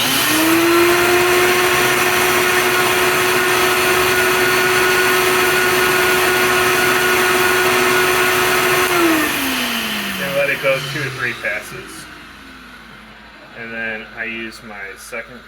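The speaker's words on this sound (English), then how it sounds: "And then when you run the vacuums, so I usually line it up at the top of the oven." Vacuum running while cleaning an oven: a loud, steady motor whine for about nine seconds that winds down, followed by a person talking.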